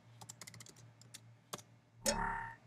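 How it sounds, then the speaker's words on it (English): A password typed on a Mac computer keyboard, a handful of soft, quick key clicks in a short burst with pauses, followed by a brief louder rustle near the end, all fairly quiet. "now type in your password"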